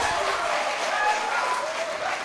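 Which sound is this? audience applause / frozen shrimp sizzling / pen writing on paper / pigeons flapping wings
audience applause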